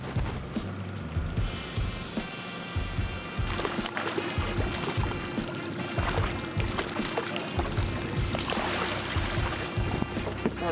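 A fishing boat cruises over 12 feet of water on Pyramid Lake, a low steady motor hum mixed with continuous splashing and sloshing of water against the hull, close and constant.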